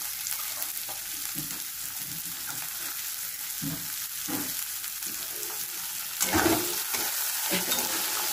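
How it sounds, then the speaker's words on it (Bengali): Chopped onions frying in a pan for a dal made with katla fish head, steady close sizzle with rhythmic stirring scrapes and a louder burst of sizzling near the end, no voices. "এগুলো একটু ভেজে নেবো।"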